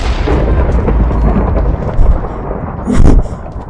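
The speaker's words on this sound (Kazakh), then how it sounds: "Найзағай қырғын екен" Heavy rumbling Minecraft thunder with sharp cracks, the loudest strike coming near the end over a constant low roar.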